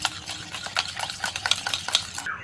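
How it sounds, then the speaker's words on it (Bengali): A spoon stirs a yogurt lassi mixture of sour curd and a pinch of black salt in a bowl, giving a string of close, light scraping and clinking strokes in an uneven rhythm. "সব কিছু একটু ভালো করে মিশিয়ে নেব।"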